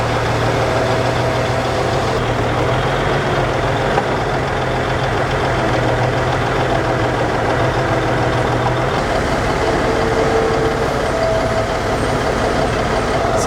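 A truck idles and rolls slowly over an automatic weighbridge during a wheat harvest, its steady diesel engine drone loud and continuous throughout with a faint hiss near the end.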